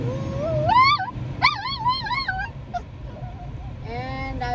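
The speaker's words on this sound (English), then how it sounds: "And I've got barking dogs." Dogs barking and whining in a high, wavering yelping pattern over steady low background rumble, in bursts across the clip with a short gap mid-way.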